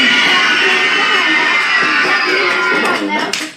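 Children's screaming and cheering from a crowd at a summer reading program event, a sustained loud mass of young voices that holds steady for about three seconds before tapering off.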